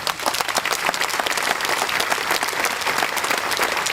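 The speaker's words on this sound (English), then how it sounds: "Thank you for that applause." An audience at a July 4th gathering at Monticello claps and applauds loudly and continuously, a dense crowd of hand claps that holds steady throughout without any speech.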